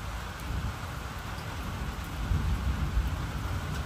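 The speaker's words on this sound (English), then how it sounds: "You can hear the thunder." Heavy rain pours steadily while low thunder rumbles faintly in the distance beneath the dense hiss of falling water.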